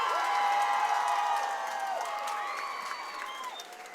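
A crowd at an MMA cage fight applauds and cheers steadily, with whoops and shouts rising above the clapping, fading slightly toward the end.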